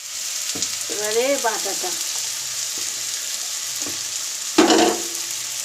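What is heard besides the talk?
sautéing paste with salt and sugar in a pan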